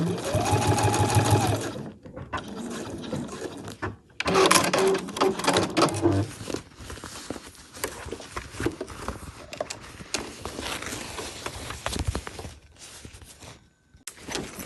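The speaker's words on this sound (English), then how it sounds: "You're a bit restricted because you're sewing in the hoop, but you have got plenty of space to get in there and finish your seam" An embroidery sewing machine stitches a backpack seam in the hoop, running loud and steady at first, then stopping and restarting in several short bursts with handling noises between.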